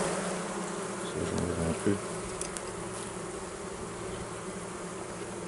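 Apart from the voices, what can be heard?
honeybees buzzing around a Layens hive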